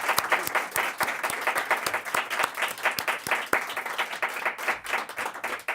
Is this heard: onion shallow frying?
no